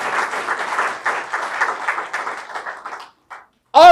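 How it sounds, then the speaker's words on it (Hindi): A congregation at a Sunday church service claps together for about three seconds in a dense, close burst. The clapping then fades out, and a voice starts just at the end. "ताली बजाएं।"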